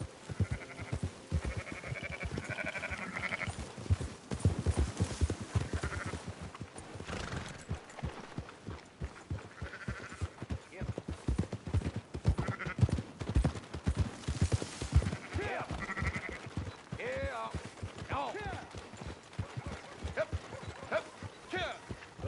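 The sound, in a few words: sheep bleating in video game Red Dead Redemption 2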